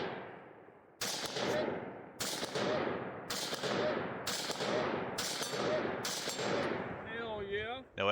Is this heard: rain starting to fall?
no